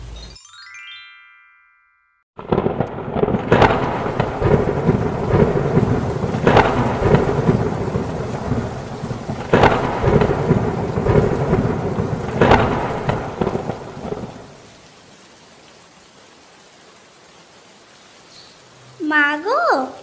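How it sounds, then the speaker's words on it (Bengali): A thunderstorm with heavy rain in a cartoon: a tonal chime opens, then dense, loud rain pours with several sharp thunder cracks at regular intervals before the downpour fades and a voice begins. "ওই যে বৃষ্টি শুরু হয়েছে, ছাড়ার আর নামই নেই"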